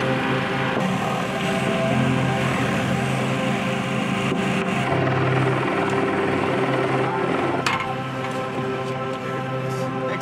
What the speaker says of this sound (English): Just go ahead and start an EMS helicopter.